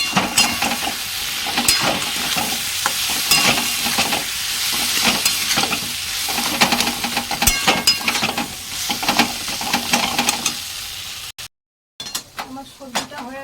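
Dal being stirred in a pan while it cooks, a steady scraping and sizzling close by that runs throughout, with brief clinks of the spoon against the pan.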